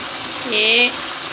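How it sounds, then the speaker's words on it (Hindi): Water pouring into a pot of arvi (taro root) curry while it cooks, a brief rising splash and trickle in the middle of a quiet kitchen background. "अब इसमें हमने सिर्फ इतना पानी डालना है"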